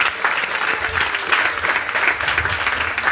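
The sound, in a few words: congregation applauding in church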